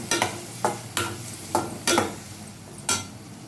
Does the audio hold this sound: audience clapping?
no